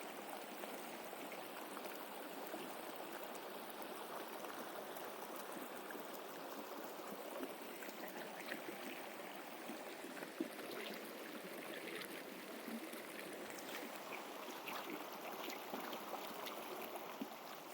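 A river flows in a steady, broadband rush of water that stays even and moderately close for the whole stretch, with no voices.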